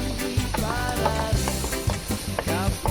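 Ground beef seasoned with salt sizzles steadily in a pan for cheesy baked macaroni while a utensil stirs and scrapes it in repeated close, rhythmic strokes.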